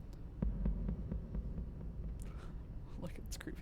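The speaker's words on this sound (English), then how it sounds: "Sounds like a heartbeat, but intense." Low, throbbing heartbeat-like drum pulse from Mass Effect game music, steady and intense, rolling under a faint hum with quiet talk and some higher sounds near the end.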